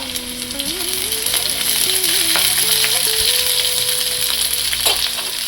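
Green beans sizzling as they are added to onions frying in a pan for ragi upma, a steady close crackle with soft stirring scrapes and a thin tonal whine running through, no talk.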